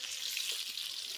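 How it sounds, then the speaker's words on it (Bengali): Potatoes salted and dusted with turmeric sizzle in hot oil in a wok, a steady close frying hiss with faint crackles and no voices. "আর হলুদ দিয়ে দিয়েছি, দিয়ে এখন ভাজছি।"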